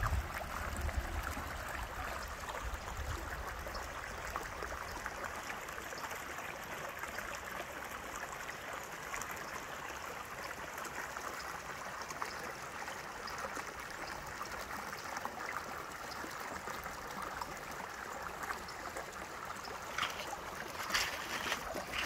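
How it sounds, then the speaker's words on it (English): A creek rushes steadily through woods at Land Between the Lakes, a continuous broadband wash of moving water close by, with no voices. "I'm gonna get past this rushing part of the creek so that maybe we can hear that sound."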